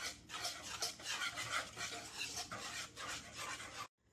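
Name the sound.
stirring kulfi mixture with a spoon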